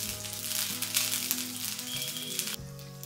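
Chopped green chillies and black peppercorns hitting a tablespoon of hot oil, giving a dense, continuous close sizzle over faint background music.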